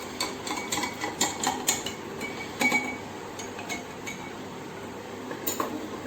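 A spoon stirring salt into a glass of water, clinking rapidly against the glass in a busy run of bright taps, then slowing to a few scattered clinks.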